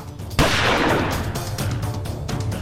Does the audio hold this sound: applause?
no